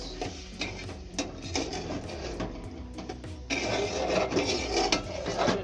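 A spatula scrapes and stirs a pan of shing catfish curry with drumstick stalks and potatoes, making irregular rasping scrapes and clinks close by that grow louder and busier toward the end.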